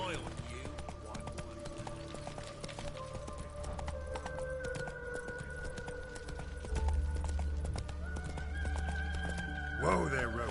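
Roach the horse galloping in The Witcher 3 on PS5, a steady clip-clop of hooves with occasional neighs under continuous game music and voices, growing louder near the end.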